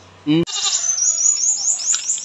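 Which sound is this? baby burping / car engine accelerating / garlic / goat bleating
goat bleating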